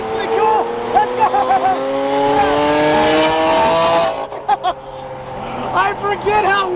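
A Lamborghini Aventador V12 roars loud and close, its engine pitch sweeping up and down through hard revs, with a second Aventador running in tandem nearby.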